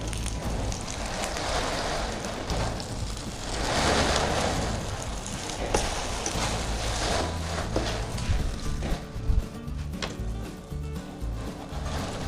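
Steady rain falling outdoors during monsoon weather, a dense continuous patter with a brief louder gust of splashing near the middle, heard over faint kitchen clatter as batter cooks in an oiled pan.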